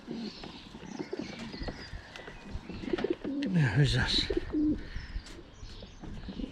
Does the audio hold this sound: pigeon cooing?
yes